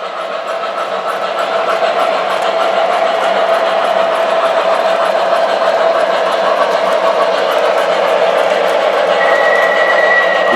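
MTH model train engine running on a DCC-controlled loop layout, a steady close mechanical whir and motor hum with faint rail clatter, continuous and even, no talking.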